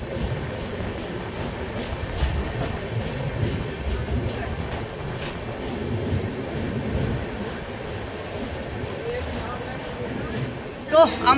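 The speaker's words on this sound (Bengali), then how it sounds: "তো আমরা এসে পৌঁছালাম আমাদের ট্রেন উত্তরবঙ্গ এক্সপ্রেসের ফার্স্ট হল্ট বর্ধমান।" Uttarbanga Express passenger train running on rails near Bardhaman, heard from inside as a steady rumbling roar with rhythmic rail clatter, a faint murmur of voices in the background and a couple of sharp knocks at the end.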